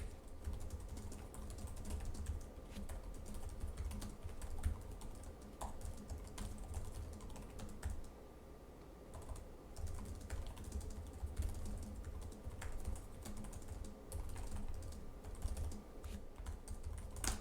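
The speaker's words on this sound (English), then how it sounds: "We'll do a quick typing test here." Typing on the keyboard of a Lenovo ThinkPad P16s laptop, its low-profile keys producing a quick, continuous run of soft, close clicks with no talking.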